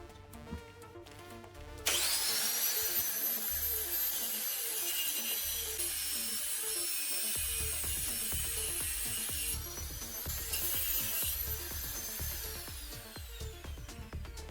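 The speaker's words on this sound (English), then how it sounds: "Cut off the extra length on both ends of the hub so the final hub length matches the nut thickness." A metal hub has its extra length cut off in continuous, close, rhythmic sawing strokes with a bright grinding edge, steady and loud without any talk.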